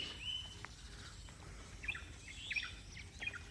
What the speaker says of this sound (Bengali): ফিঙে পাখির অদ্ভুত একটা ডাক।